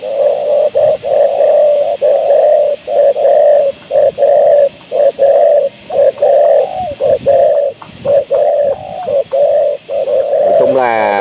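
Spotted dove cooing in a steady series of low, repeated hooting phrases with short gaps between them, close and loud, while a sharper call breaks in near the end.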